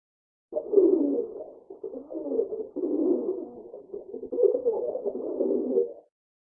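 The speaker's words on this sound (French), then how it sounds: "Tu as entendu le cri du pigeon." A pigeon call from the French children's video game Adibou'chou: steady cooing for several seconds, a low, throaty, rolling call repeated without pause, clear and close with no other sounds.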